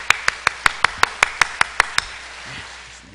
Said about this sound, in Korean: 우리 뜨겁게 박수 환영하겠습니다